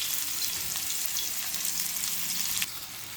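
Finely chopped onion fries in oil with mustard seeds, cumin, curry leaves and crushed garlic, giving a steady close hissing sizzle that drops slightly in level near the end, with no voices.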